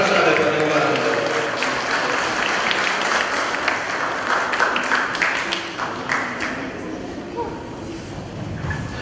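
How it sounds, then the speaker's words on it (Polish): An audience claps for a second-place prize winner at a competition ceremony, strong applause that gradually thins out while a voice speaks over the tail end. "Brawa dla pani Wandy Wąsowskiej"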